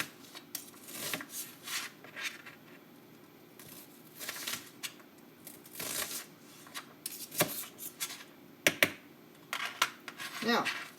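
A knife dicing an onion finely on a cutting board for Asian pork, with irregular bursts of quick chopping taps spread across the span and light background noise between them.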